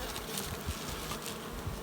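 Honey bees buzz around small nucleus hives in a queen-rearing apiary, a dense, steady drone of many insects close by, unbroken throughout.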